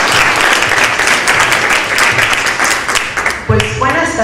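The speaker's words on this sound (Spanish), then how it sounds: "Un aplauso, por favor." Applause from a conference audience at a state science-outreach gathering fills the room, dense and steady for several seconds before tapering as a voice begins speaking near the end.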